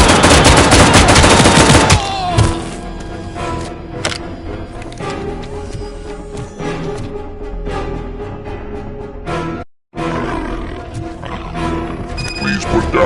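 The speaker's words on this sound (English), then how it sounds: "I am under attack from Ed 209" In RoboCop: Rogue City, the ED-209 robot opens fire with a loud, dense burst of heavy automatic gunfire, then sustained shooting and mechanical clatter continue under scattered voices and game sounds.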